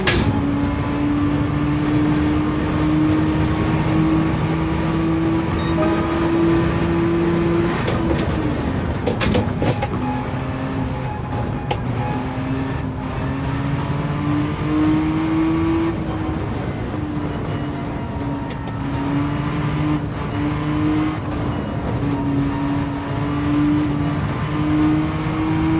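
Race car engine in Gran Turismo 7, a steady loud drone with sustained harmonic pitch that dips briefly mid-run and then climbs and settles again, continuous with no talk.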